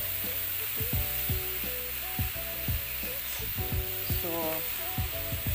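Shrimp and mixed vegetables stir-frying in a pan, with a steady loud sizzle broken by repeated scraping stirs of a utensil, while a voice speaks briefly at the start.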